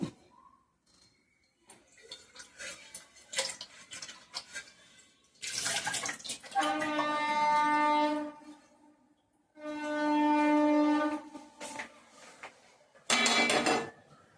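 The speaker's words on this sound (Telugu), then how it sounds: "ఇప్పుడైతే ఇదిగోండి ఇది కడుగుతున్నాను, నాన్ స్టిక్ ఇది కదా, కడుగుతా ఒకసారి" Water splashes and runs in a non-stick pan being rinsed in a home kitchen, with bursts of clatter and sustained rushing flow in several spells, fairly close and loud, with no talking.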